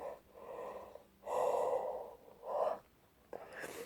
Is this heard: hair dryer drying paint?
no